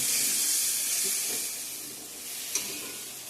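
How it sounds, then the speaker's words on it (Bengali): Pointed gourd, potato and raw banana cooking together in a pan, a steady close sizzle and hiss with a brief stirring scrape partway through. "এখন এদিকে আমি পটল, আলু, কাঁচা কলা একখানি সবজি রান্না করছি।"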